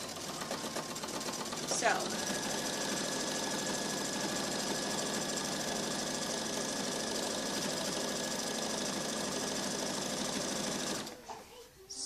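A sewing machine back-stitching to attach a hood to a towel, running in one steady, close, buzzing stretch for about nine seconds before stopping, with a brief word spoken at the start.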